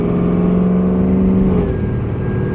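A supercharged Chevrolet Camaro SS on an R-Force GT chassis pulls onto a highway, its engine holding a loud, steady drone and whine heard close from inside the car, with no talking.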